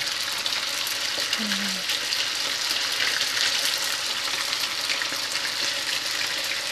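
Mackerel fish cakes (pempek) frying in hot oil, a steady, dense crackling sizzle that stays loud and close throughout with no break.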